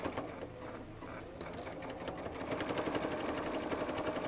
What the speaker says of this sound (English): I'll keep sewing and then you can see it come out and see how it's working